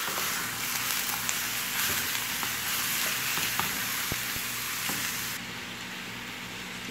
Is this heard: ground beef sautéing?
yes